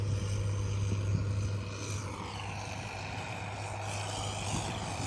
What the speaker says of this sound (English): I'm going after my drone.